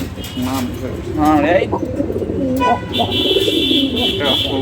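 Pigeons kept in a cage, two males and two females, coo in soft repeated throaty calls close by, mixed with a person talking and a brief steady tone.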